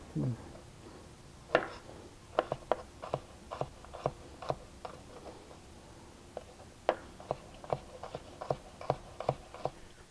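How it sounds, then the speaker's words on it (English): Knife chopping and mincing garlic on a cutting board, a quick irregular series of light taps and clicks, close and fairly quiet, with short pauses. "So on the garlic, I'm just looking for a mince on the garlic."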